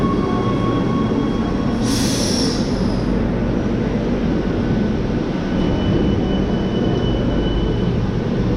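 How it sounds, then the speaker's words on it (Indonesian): Rome Metro Line A subway train running, a loud steady rumble of wheels on track with a brief high squeal early on, continuous and close throughout. "Ini adalah Metro Line A, jurusan Battistini Anak Migna atau sebaliknya"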